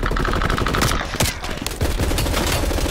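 Gunfire in Call of Duty on the Nuketown map, a loud, dense burst of rapid shots with sharp cracks filling the short stretch, close and without talking.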